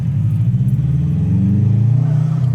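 A JDM Bug Eye Subaru WRX STi with an EJ207 engine revs up close and loud, its throbbing rumble climbing smoothly in pitch over a couple of seconds.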